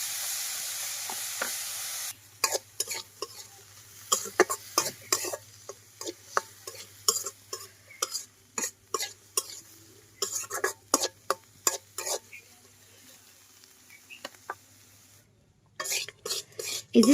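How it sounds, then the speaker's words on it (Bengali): Small river shrimp coated with turmeric and salt fry in oil, a faint sizzle with a low hum behind it and sharp, irregular clinks and scrapes of a utensil against the pan. "হলুদ আর লবণ দিয়ে মাছগুলোকে ভেজে নিব।"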